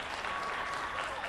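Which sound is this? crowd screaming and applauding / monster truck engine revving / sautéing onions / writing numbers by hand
crowd screaming and applauding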